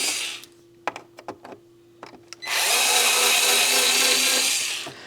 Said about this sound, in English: power screwdriver? That's going to make it a lot easier